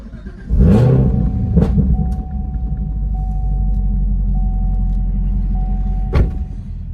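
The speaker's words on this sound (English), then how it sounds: "you're gonna get some exhaust sounds and intake sounds, more importantly, for this RotoFab intake" A 2017 Camaro ZL1 with a RotoFab aftermarket intake rumbles at idle, then revs sharply a couple of times with a throaty intake roar, settling into a steady low drone between blips.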